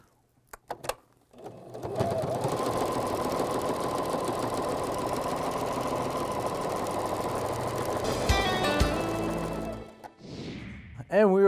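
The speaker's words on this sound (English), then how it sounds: "with the power of television and my super fast sewing machine" A fast electric sewing machine stitching a sequined boy's fancy regalia apron, a steady loud whirring run of about eight seconds with brief handling noises before and after.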